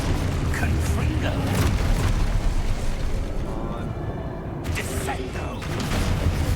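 Spell explosions from Hogwarts Legacy, with Confringo blasts amid other combat spells: a dense, continuous run of loud booming bursts and crackles, close and heavy, with brief dips between volleys and a voice calling out over the action.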